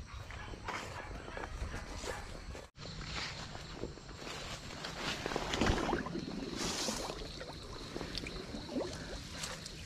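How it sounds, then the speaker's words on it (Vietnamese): Thigh-deep water waves surging and splashing continuously outdoors, a broad steady wash of moving water with a brief dropout near the start and a swell in the middle. "Cái sóng này sâu đến đùi các bác."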